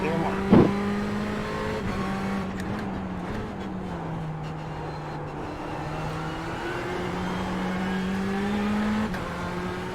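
A race car lapping during enduro practice at Daytona, its engine holding a steady drone with gear changes and slight rises in pitch as it heads onto the oval, heard from inside the car with a short bump early on.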